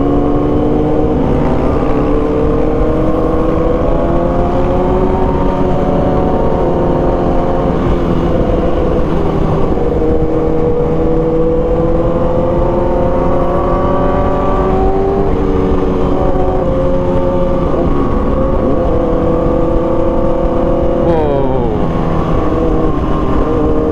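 Motorcycle or car exhaust on a city ride, a loud steady engine drone with shifting harmonics as the revs rise and fall, continuous for the whole stretch amid road noise.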